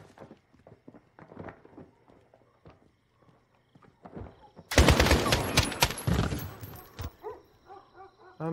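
Bursts of automatic gunfire erupt in the Modern Warfare video game, a dense, loud volley lasting a couple of seconds after sparse footsteps and scattered quieter sounds.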